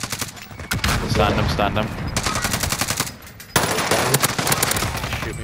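Rapid automatic gunfire from a Warzone Rebirth match, sustained bursts of loud close shots rattling through most of the stretch, with a sharp heavier volley near the middle and a player's voice talking over it.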